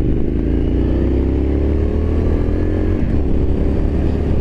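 A 2023 Triumph Scrambler 900 motorcycle pulls away under steady throttle, its engine a loud, close, continuous drone that rises smoothly in pitch through the run with no break.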